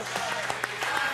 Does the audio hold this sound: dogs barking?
no